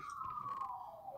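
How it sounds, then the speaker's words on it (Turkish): An ambulance siren in a video game, a single faint electronic tone gliding slowly downward, brief and thin against a quiet background. "Geliyor mu sana ambulans sirenin sesi?"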